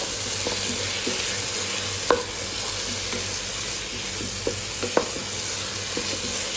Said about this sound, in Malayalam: ബാക്കിയുള്ള ഉള്ള തക്കാളിയും ഉരുളക്കിഴങ്ങും കൂടി ഇടാം ഇതൊന്ന് മിക്സാക്കി കൊടുക്കണം